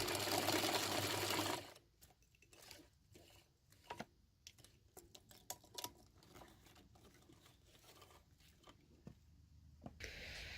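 A sewing machine runs a wide zigzag back and forth across joined elastic ends in a close, busy burst, then stops, leaving faint clicks and handling taps.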